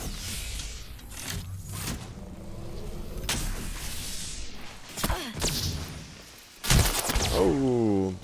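Sniper-style G7 Scout rifle shots and charge rifle fire in the battle royale game Apex Legends, sharp bursts scattered through a busy mix with loud crashing impacts near the end, under game noise and some speech.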